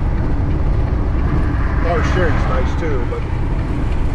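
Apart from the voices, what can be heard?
truck engine idling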